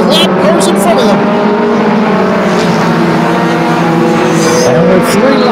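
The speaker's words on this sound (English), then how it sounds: "They're going to power down the back straightaway once again with lap cars in front of them." Mini stock race cars at Flamboro Speedway roar loudly and continuously down the back straightaway during an October race, engines droning and shifting pitch as they pass, with a commentator's voice running over the engine noise.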